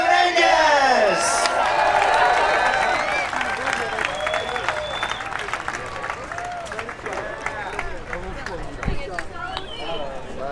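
A large crowd at a Vans Rebel Jam BMX women's final claps and cheers for the first-place winner, with whoops rising over steady applause and an announcer's voice talking loudly over it.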